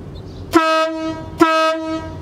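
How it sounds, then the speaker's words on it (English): A cheap $20 air train horn sounds two loud, steady blasts, each about half a second long with a brief gap between them. The rich harmonic tone is heard alone and close up. "super cheap air horn"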